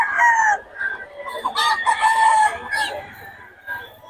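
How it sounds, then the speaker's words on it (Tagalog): A black hen clucks close by while a rooster lets out a full crow, the calls overlapping in a short, lively burst of poultry noise. "Yung black hen mo, boss"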